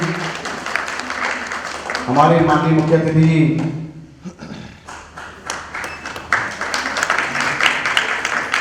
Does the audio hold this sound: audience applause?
yes